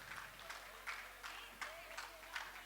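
Applause at a community celebration congratulating a woman, scattered, fairly faint clapping rising in bursts, with voices talking over it.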